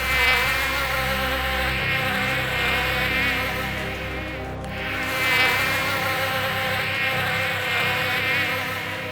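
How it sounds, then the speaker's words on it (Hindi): A small toy motor drones with a steady, insect-like buzz resembling a housefly, loud and close, continuous for several seconds with slight swells in pitch and level, no voices. "इस मक्खी की आवाज वाले मोटर का।"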